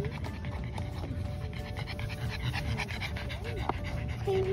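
A pug pants close by in quick, rhythmic breaths that run steadily throughout, while a person talks softly over it outdoors near a dog park.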